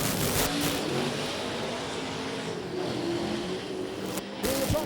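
Super sedan race car at Gympie Speedway accelerating hard out of a hairpin, its engine roaring steadily and loudly with a rising, wavering pitch, and a brief dip near the end before the throttle picks up again.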